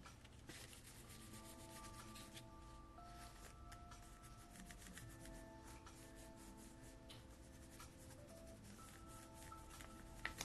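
A rubber stamp print on an envelope is burnished with steady rubbing strokes, a soft, close, continuous scratchy friction under faint background music.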